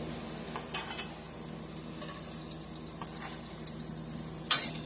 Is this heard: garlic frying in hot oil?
yes